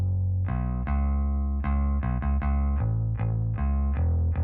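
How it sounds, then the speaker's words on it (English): A bass guitar run through parallel Decapitator distortion plays a steady run of low notes, gritty and saturated, sounding alone with no voices. "I use decapitator as a parallel distortion for my bass"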